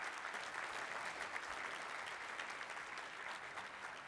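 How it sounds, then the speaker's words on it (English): An audience claps steadily for several seconds, a dense, even wash of applause with no voices. "Give these guys a round of applause."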